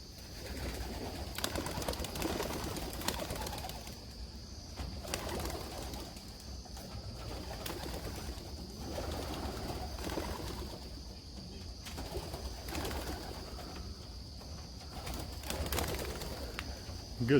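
Racing homer pigeons circle around a house, with soft coos and occasional wing flaps heard faintly outdoors over steady background noise.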